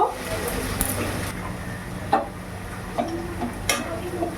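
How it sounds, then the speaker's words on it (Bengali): Chopped onions fry lightly in a pan with a soft, steady sizzle, punctuated by a few sharp clicks and stirring knocks at close range, with no one talking. "পেঁয়াজটা হালকা করে একটু ভেজে নেব।"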